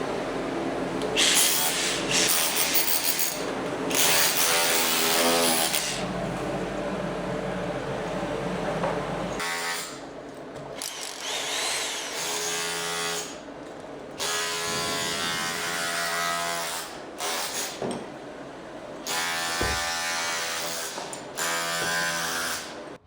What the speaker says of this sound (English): having plenty of fun here with the SDS drill